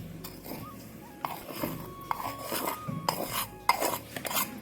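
Ground semolina is tipped into a bowl, giving soft rasping and rustling with a few light clinks and scrapes against the dish, quiet and close.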